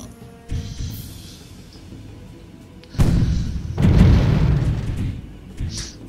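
Heavy cannon blasts boom from ships firing at a tower in the naval game Patrizier 2, two loud deep bursts with rumbling tails over a quiet ambient background.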